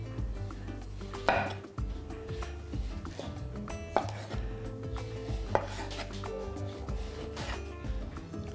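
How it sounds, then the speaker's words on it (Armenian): Two medium tomatoes are sliced raw on a board, knife strokes landing in irregular taps and thuds, with occasional clinks of utensils; close and moderately quiet. "Կտրատում ենք շերտերի"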